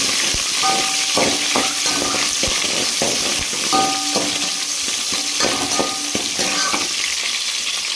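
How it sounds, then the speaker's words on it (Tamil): Country chicken curry with green chilies fries in a pan with a constant sizzle, while a spoon stirs and scrapes against the pan in irregular bursts, close by and without talk. "இதை வந்து லைட்டாக நல்லா கிளறி விட்டுக்கலாம்."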